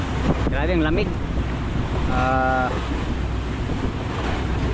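Rough open sea off Polillo Island heard from aboard a boat in strong monsoon winds, with steady roaring wind and wave noise throughout; a person speaks briefly near the start.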